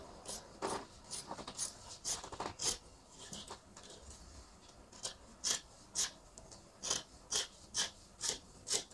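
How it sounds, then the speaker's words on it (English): Scissors snipping through Ankara fabric along a back neckline, close and fairly faint, a run of crisp cuts that turns into an evenly spaced, rhythmic series of snips. "So I'll cut out the back neckline."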